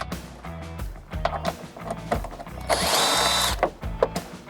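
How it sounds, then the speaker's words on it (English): A power driver fitted with a T40 Torx bit whirs in short bursts and one longer sustained run while pulling the factory top tie-down tabs from a Jeep JL, with clanks and handling noises between. "Swapping over to a T40 Torx bit, we're going to pull these original top tie-down tabs off."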